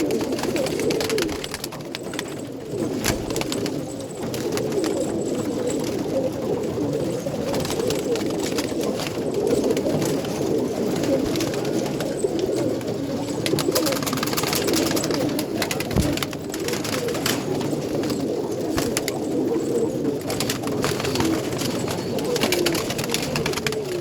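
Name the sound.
pigeons cooing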